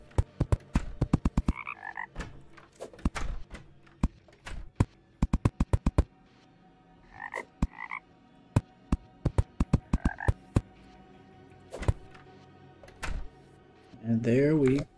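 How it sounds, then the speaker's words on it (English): A frog in the Terraria video game's jungle croaks in repeated short bursts, several quick clusters of sharp clicking croaks spaced across the scene, with brief game sound effects between them and a louder warbling burst at the end. "Frog kept coming over here because the jungle tile's right there."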